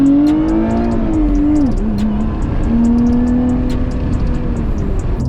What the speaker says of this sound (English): it sounds so good for a V6.